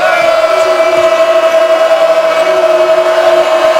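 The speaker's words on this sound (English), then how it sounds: "Sellout crowd here at the O'Connell Center. Despite the fact that it is spring break, there's a large contingent of noisy students" A sellout crowd of noisy students fills a college basketball arena at the O'Connell Center during an LSU at Florida game, producing a steady, dense roar of voices throughout.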